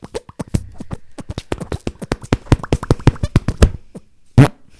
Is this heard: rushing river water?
no